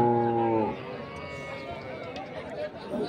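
At a Thursday livestock market in Aswan, a cow gives one loud, close moo that lasts under a second, then people talk and the market murmurs in the background.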